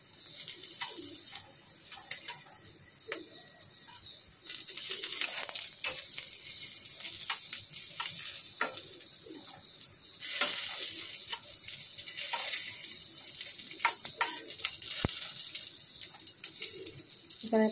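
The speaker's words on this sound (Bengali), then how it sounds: "পটল একটু লাল লাল করে কালো জিরে ফোড়ন দিয়ে পটলটা ভাজছি" Pointed gourd frying in oil with a black cumin tempering, giving a continuous loud sizzle with stirring scrapes and clicks, swelling in two bursts as the pieces are turned; no speech.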